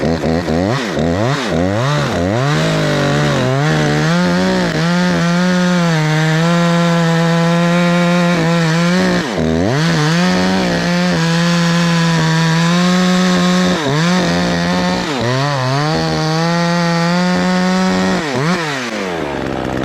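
Ported Husqvarna 543xp chainsaw cutting through wood at high revs, loud and continuous for the whole stretch, engine pitch rising and dipping as the load changes with a few brief throttle drops.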